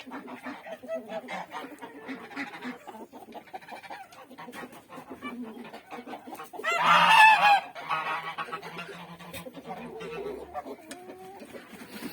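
A gander and geese honk loudly in a burst near the middle, over ongoing farmyard clucking and background chatter, with quieter honks before and after.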